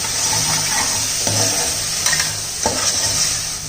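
Drumstick (moringa) pieces sautéing in a pan for a weight-loss soup, a loud continuous sizzle with a ladle scraping and stirring in short strokes, close up and without talking.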